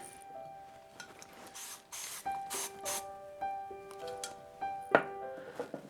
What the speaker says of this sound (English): always spray each section of hair first before rolling it